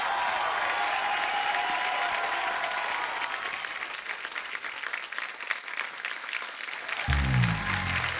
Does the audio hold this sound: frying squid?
no